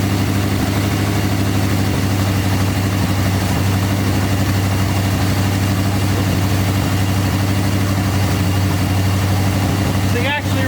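A 1973 Dodge truck engine idles steadily right after its first start, a loud, even low rumble that runs unbroken throughout, with a brief disturbance near the end.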